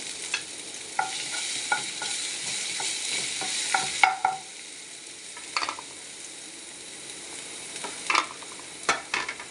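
Crushed ginger and green chili fry in a pan for okra stir-fry, giving a steady bright sizzle that cuts off around the midpoint, with intermittent spoon scrapes and taps against the pan throughout.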